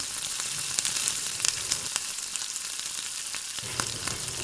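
Mustard seeds hit hot peanut oil for a Gujarati handvo tempering, giving a steady, close hiss of sizzling with scattered sharp pops and crackles throughout, no voices.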